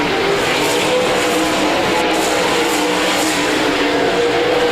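360 sprint cars race at Park Jefferson Speedway, their engines roaring loudly and continuously as the pack thunders past in close, dense racing without a break.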